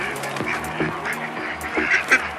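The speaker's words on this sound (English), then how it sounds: "The Ancona is a great backyard duck." Ancona ducks on a backyard farm give a run of nasal quacks, several calls overlapping at a steady moderate level against a continuous farmyard background.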